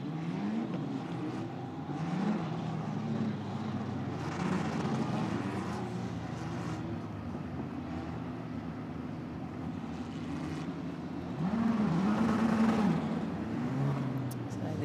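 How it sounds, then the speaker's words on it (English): Formula race cars circling the final corners at Magny Cours on their way to the starting grid, producing a continuous engine drone that rises and falls at a distance beneath a commentator's voice. "So they come around the final few corners and will line up in their grid positions."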